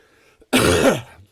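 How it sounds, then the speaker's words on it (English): A single harsh, crunchy cough with throat clearing, loud and close, standing alone after a brief quiet pause. "Sorry for that crunchy cough."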